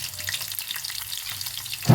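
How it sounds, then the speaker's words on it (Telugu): Onion pieces fry in hot tempering oil with mustard seeds, giving a close, steady crackling sizzle that flares into a louder burst right at the end. "ఇది తాలింపు బాగా మాడాలి మాడితేనే టేస్ట్"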